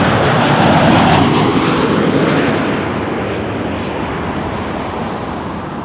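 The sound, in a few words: Swoop airline jet aircraft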